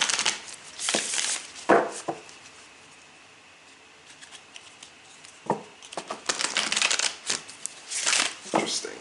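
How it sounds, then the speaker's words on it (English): Tarot cards riffled and shuffled in several quick bursts, with brief pauses and soft handling noises between them, close up. "we're going to shuffle these cards a couple of times more."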